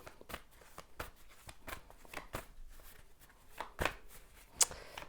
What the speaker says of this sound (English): I'm going to shuffle and see what the cards have to say